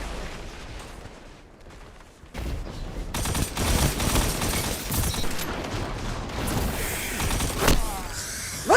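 Shotgun blasts fire in an Iron Banner match in the video game Destiny 2, a dense, loud run of shots and other weapon fire that builds after a quieter opening and then stays sustained.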